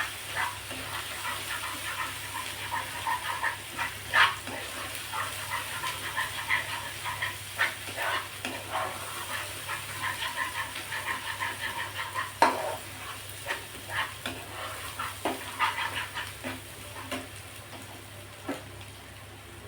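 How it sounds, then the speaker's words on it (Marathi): Prawn masala with coriander powder and homemade spice mix sautéing in a pan, a steady low sizzle broken by frequent clinks and scrapes of a spoon stirring, with no voices. "आता हे आपल्याला या मसाल्यामध्ये पुन्हा एकदा दोन मिनटासाठी परतून घ्यायचं"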